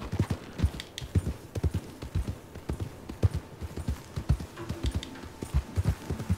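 Horse hooves clip-clop at a steady walking pace in the video game Red Dead Redemption 2, with continuous rhythmic close thuds over soft ambient outdoor background.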